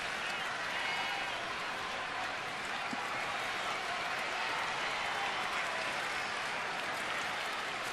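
Large baseball stadium crowd cheering and applauding in a dense, sustained roar at a night game, steady and moderately distant without a break.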